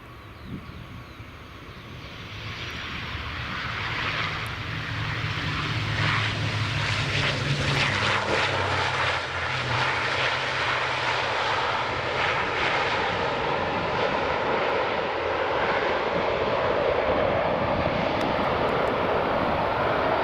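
An Aer Lingus airliner lands at Edinburgh Airport, its engine roar swelling from a quieter start into a loud, sustained rush that holds steady through touchdown and rollout.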